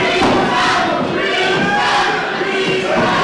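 A wrestling-match crowd roars with loud, sustained jeering and shouting, dense and close throughout, with occasional thuds from the ring underneath.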